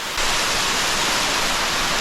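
Tumpak Sewu waterfall in East Java roars as a steady, loud, broadband rush of falling water, constant and close, with no voices over it.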